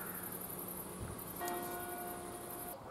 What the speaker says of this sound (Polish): oni zawsze biją w dzwony, jak jest pełna godzina, albo jak jest pół godziny